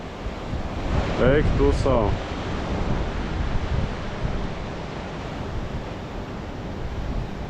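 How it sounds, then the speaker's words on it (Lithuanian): Ocean waves roll along the Colombo coast beside a moving train, a broad continuous rush of surf mixed with heavy wind buffeting the microphone, and a brief voice cutting in near the start. "Bet kokios bangos, eik tu sau."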